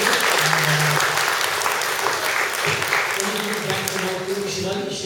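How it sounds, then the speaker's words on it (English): Book launch audience applauding a presentation, a dense, sustained wash of clapping throughout with faint voices mixed in underneath. "A round of applause, please, for this fantastic presentation."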